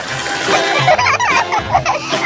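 Orange juice splashing over a person, a quick wet splatter and slosh mixed with giggles and excited voices close by.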